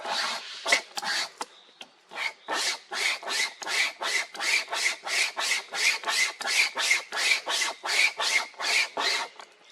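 A small Bacho hand saw rasps steadily through a log in a long run of rapid, even back-and-forth strokes, close and clear.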